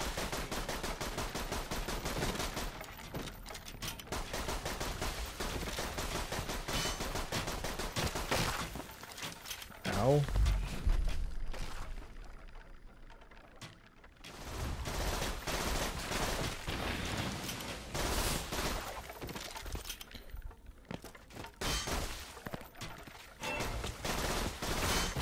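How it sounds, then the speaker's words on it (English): Continuous enemy gunfire in Borderlands 2, a loud dense stream of rapid shots running almost unbroken, dipping briefly in the middle before resuming at full intensity. "And they're just shooting continuously"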